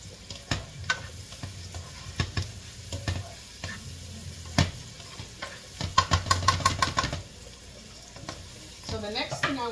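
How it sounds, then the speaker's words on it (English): Food sautéing in a pan while pasta is stirred, with a low steady sizzle broken by repeated clinks and scrapes of a utensil against cookware. "I'm going to just let this saute for a few minutes more"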